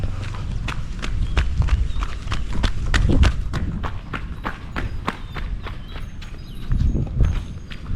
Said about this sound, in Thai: ลองดูนะเดี๋ยวผมจะลองวิ่งดูนะครับ